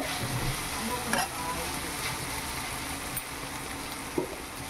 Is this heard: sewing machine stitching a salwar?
no